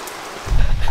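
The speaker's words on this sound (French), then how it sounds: "Oh, il pleut tellement." Heavy rain pouring at an abandoned water park, a dense close hiss with a low rumbling wash swelling midway through.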